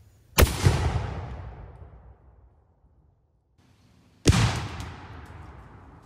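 Two loud, close blasts a few seconds apart from a 3D printed rocket-powered tank round being fired outdoors at a target 100 yards away, each with a sharp onset and a long fading rumble.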